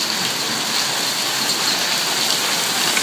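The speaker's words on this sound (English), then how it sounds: "It's raining off the roof." Heavy rain mixed with hail pours down and runs off a roof in a dense, steady, close hiss that holds at the same loud level throughout, with no voices.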